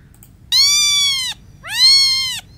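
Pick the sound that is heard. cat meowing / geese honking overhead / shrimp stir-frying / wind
cat meowing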